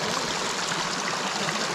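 Cold water flowing in a stream at a muddy enduro race course, a steady close rush and trickle that continues unbroken, with no talking.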